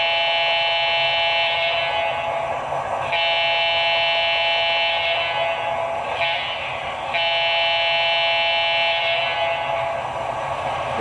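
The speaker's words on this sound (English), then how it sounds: "There's an alternate horn on F-22," Alternate horn of a Broadway Limited Southern Pacific E9A #6051 model diesel locomotive with Paragon 3 sound, a loud multi-chime electronic blast that holds steady and repeats in several long soundings with brief breaks, no talking.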